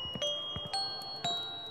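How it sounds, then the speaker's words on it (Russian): A bell played in the video game Escape Academy: a few clear, bright chimes struck one after another at a moderate pace, each ringing out with sustained tones, quiet and alone. "А, это ты на колокольчик играешь, я понял."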